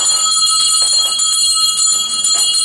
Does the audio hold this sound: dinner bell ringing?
yes